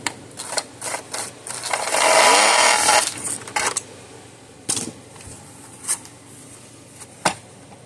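A power drill bores out and enlarges a hole in a Zareba solar fence charger, whirring in a loud sustained burst in the middle, with short drilling bursts and clatter before and after.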